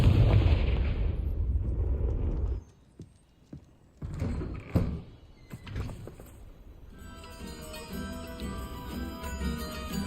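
Confringo fire spell cast in Hogwarts Legacy: a loud burst and roar that cuts off abruptly, followed by scattered crackles and thuds, then music swelling back in underneath.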